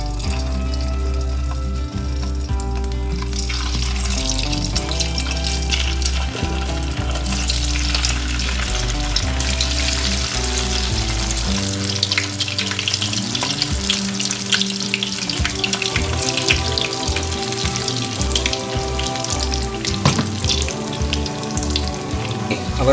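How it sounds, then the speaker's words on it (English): Cauliflower pieces frying in hot oil, a dense continuous sizzle and crackle at close range, steady and loud throughout with no talking. "I'm start frying the cauliflower."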